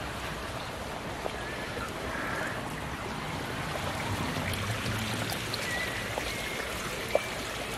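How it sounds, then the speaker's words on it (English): Fresh water runs steadily into a garden pond below a waterfall, a continuous close splashing rush with no break and no voices. "You're going to come down here now and start filling the pool."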